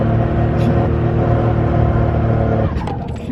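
A 1987 Buick Grand National with its turbo spooling gives a loud, close, steady engine roar that builds under acceleration, then eases off near the end.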